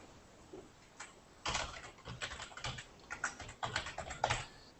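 Password being typed on a computer keyboard during a virtualization setup with KVM/Proxmox: a brisk run of close, crisp key clicks in irregular bursts over a quiet room hum, with no one speaking.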